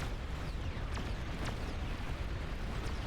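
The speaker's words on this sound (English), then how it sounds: "Juggernaut explosion." A Juggernaut unit explodes in a strategy video game, heard as a steady, dense roaring rumble with a few quick whooshing sweeps running through it.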